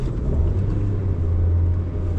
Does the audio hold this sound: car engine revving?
yes